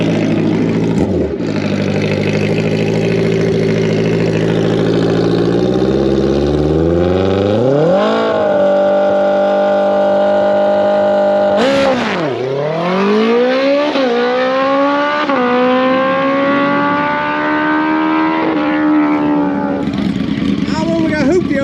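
Jason Young's drag-racing motorcycle revs loudly and then accelerates hard down the strip, its engine note climbing through several gear shifts, with a brief pause near the middle and people talking over the din.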